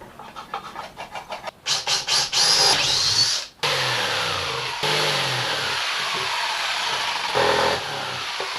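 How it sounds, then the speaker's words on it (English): A power drill whirs in short stuttering bursts, then runs in longer sustained high-pitched grinds as it bores an outlet hole on a wooden boat. "ready to cut the hole for the outlet and drill the hole for the 12 volt outlet"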